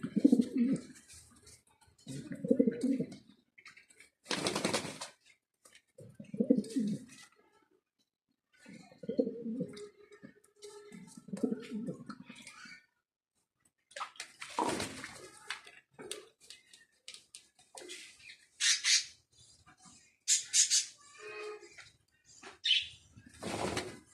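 Mundian pigeons coo in soft repeated bursts, broken by several sharp flurries of wing flapping, close by and fairly quiet with pauses between.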